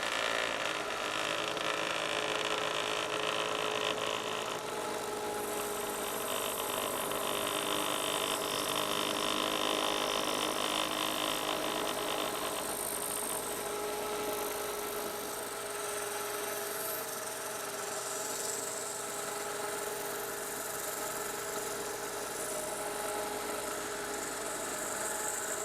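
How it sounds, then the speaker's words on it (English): A bandsaw cuts through a rock bearing zoanthid coral, a continuous humming drone with a high, hissing grind layered on top, steady throughout with no talk. "So I'll do that using the bandsaw."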